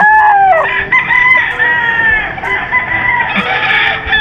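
A sweater gray gamefowl rooster crows loudly and close on a farm, a long strained cock-a-doodle-doo followed by further crowing and clucking calls, with other birds faintly behind.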